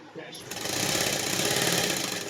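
Sewing machine running steadily as it stitches fabric, loud and continuous for about two seconds after a brief start, with a voice faintly present.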